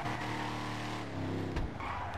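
Video game car engine roaring at high revs, then a sharp tire skid and squeal near the end, loud and alone without talk.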